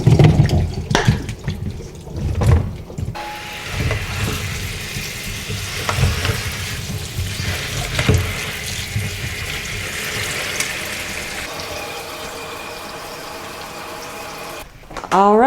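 Salted pickle cucumbers are drained and rinsed under a running kitchen tap, a continuous loud splash of water with clattering of the cucumbers and container, and a brief pause near the end.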